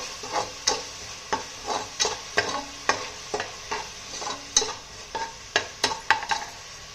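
Green chillies fry in oil with salt while a spoon stirs them, giving a steady low sizzle broken by regular sharp scraping taps about every half second, close up and with no talk.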